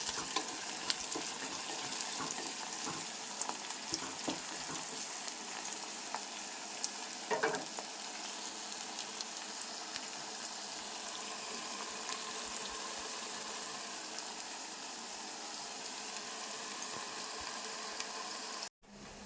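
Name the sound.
onions sautéing in a pan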